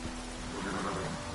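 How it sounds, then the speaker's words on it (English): Steady rain falls in The Witcher video game, a continuous even hiss of downpour with no voices. "Let it rain."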